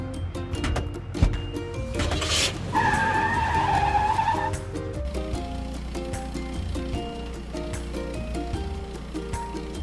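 Cartoonish car driving and a tire skid in a build-a-house construction truck mobile game, a short squealing slide in the middle amid looping bouncy game music and clicking effects.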